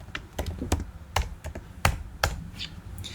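Typing on a computer keyboard during an econometrics lab session, a string of sharp, irregular key clicks at close range, with no speech over them.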